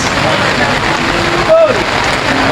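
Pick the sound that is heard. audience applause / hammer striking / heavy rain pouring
heavy rain pouring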